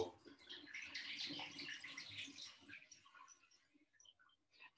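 Water being poured off tomato seeds during acid extraction, a light trickling and splashing for about three seconds that fades to quiet, ending with a sudden clunk.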